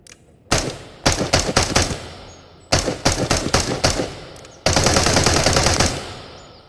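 Three bursts of rifle fire in Into the Radius VR emptying a 20-round magazine, a light gun with a full-length stock and a slow fire rate. Rapid, evenly spaced close shots ring out in short strings, the last burst long and sustained.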